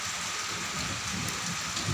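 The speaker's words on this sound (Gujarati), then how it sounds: "આજ વરસાદ ચાલુ થઈ ગયો છે" Light drizzle patters softly under heavy clouds, a fine even hiss of raindrops on surfaces with a faint low rumble beneath, brief and quiet with no voices.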